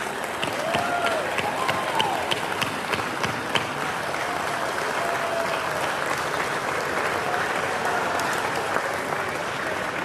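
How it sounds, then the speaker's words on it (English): Dinner audience at an alumni awards and athletic hall of fame event applauding honorees, steady dense clapping filling about ten seconds at even loudness with faint voices beneath. "please join me in a last final round of applause for all our honorees"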